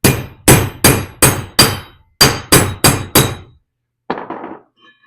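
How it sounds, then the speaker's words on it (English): Metal hollowing tool being bent with a hammer: nine sharp, ringing blows in two quick rhythmic bursts, close and loud, followed by a lighter clink and rattle. "If you're going to do some metal work, I apologize, this isn't the right hammer for this"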